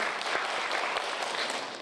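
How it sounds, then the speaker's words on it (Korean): Audience applause at a Korean mayoral candidate debate, a short burst of dense clapping from a hall crowd, fading slightly at the end. "큰 박수 좀 부탁드리겠습니다."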